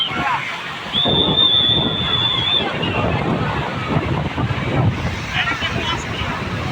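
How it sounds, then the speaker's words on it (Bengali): Strong sea waves crash and roar at Digha beach, loud and continuous with heavy wind buffeting the microphone, while voices call out now and then and a brief high whistle-like tone rings out. "প্রচন্ড ঢেউ"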